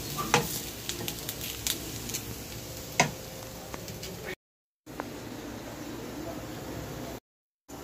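Taro pieces frying in a pan give off a steady, quiet sizzle, broken by scattered sharp clicks and taps of stirring and two brief cuts to silence.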